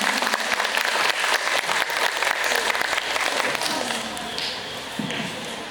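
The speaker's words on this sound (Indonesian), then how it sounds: "Beri aplaus untuk pemateri kita hari ini." A seminar audience claps for the speaker, a dense burst of applause that thins out and fades toward the end, with faint voices underneath.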